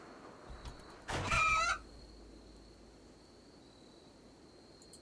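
A hen clucks once in the Rimworld video game, a short, loud squawking call standing out briefly against a faint, quiet background hiss.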